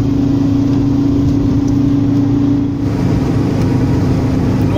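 A car engine labours steadily up a steep 6% hill on a rural road among fields, a loud, constant mid-pitched drone with a sustained tone that shifts slightly partway through as the load changes.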